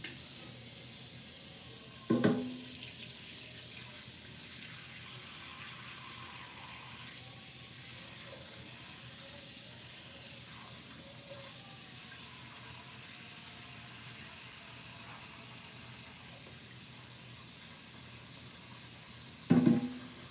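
Tap water runs steadily into a pot in a home kitchen for blanching collard greens, a continuous faint hiss with two brief clanks at the start and end, no voices.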